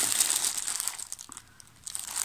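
A plastic package holding a craft-supply order is unfolded and crinkled, close and fairly quiet, a run of crisp rustles that briefly eases off before crackling again.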